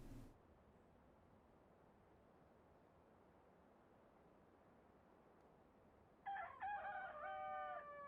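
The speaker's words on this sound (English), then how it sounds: "Cockerel's up." A rooster in the Russian Fishing 4 video game crows once near the end, loud and clear against a quiet hiss of background ambience.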